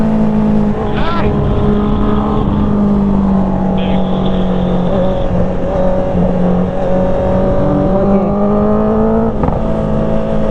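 Engine noise from a car on a night ride along the Marilaque highway, a steady droning hum with shifting revs and brief passing swells, with people talking over it.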